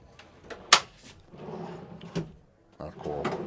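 A heavy drawer in a camper van slides open with a sharp thud near 0.7 s, followed by softer sliding and knocking sounds, with people talking in the background.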